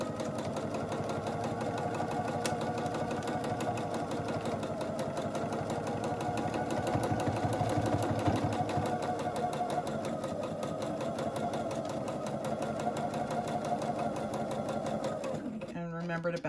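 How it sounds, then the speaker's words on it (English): A sewing machine runs at a steady, even speed as it stitches fabric for a face mask storage pouch. The motor hums and rattles continuously for around fifteen seconds, close up, and then stops. "and continue to sew."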